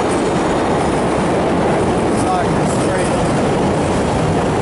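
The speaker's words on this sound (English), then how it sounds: "That train came by like, what, 20 times" A train rolls past, a continuous loud rumble of rail wheels with faint squeals and clatter, steady and close throughout with no pause.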